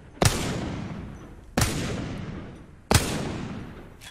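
The Wingman pistol in Apex Legends fires three loud, sharp shots about 1.3 seconds apart, each followed by a long decaying echo.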